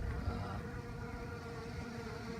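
Honey bees feeding on old honey from a dead-out hive produce a dense, steady buzzing drone close by, continuous throughout with no talking.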